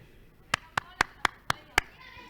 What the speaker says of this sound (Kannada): ಜೋರಾಗಿ ಚಪ್ಪಾಳೆ ತಟ್ಟುವುದರ ಮೂಲಕ ಅವರನ್ನು ಸಹ ಸ್ವಾಗತಿಸುತ್ತೇವೆ